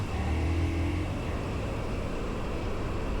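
A motorcycle cruising along an open road, a steady engine drone mixed with broad wind and road noise, holding constant throughout with a slight tonal shift early on and no voices.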